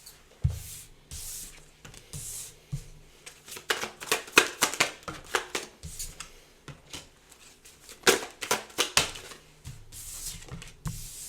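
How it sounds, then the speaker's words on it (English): Tarot cards being shuffled and handled in a bursty, uneven rhythm, with quick riffling flurries and soft slaps close to the mic and no talking. "let me pull some cards and we'll get into your reading here."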